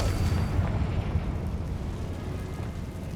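A Confringo spell explosion in Hogwarts Legacy, deep in the catacombs, comes through as a heavy, low rumbling blast that roars steadily and fades slowly over a few seconds.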